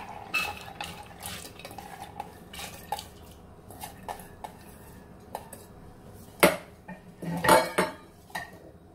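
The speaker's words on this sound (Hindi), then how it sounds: "सबसे पहले कुकर में हम डालते हैं चना दाल।" Dry chana dal rattles and clinks into a metal pressure cooker, with scattered light taps that build into a couple of louder, clattering pours near the end.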